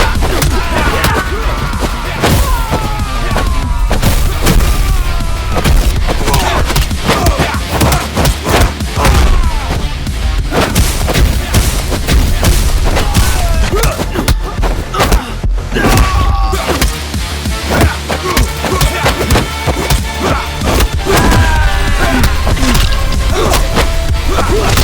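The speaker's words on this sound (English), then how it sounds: "Each gun sounds differently, from the punchy handguns to the decisive shotguns and even down to the cadence of automatic weapons" Dense, nonstop video game gunfire from Midnight Fight Express, mixing punchy handgun shots, heavy shotgun blasts and rapid automatic bursts with thuds and crashes. The firing is loud and close, with voices underneath at times.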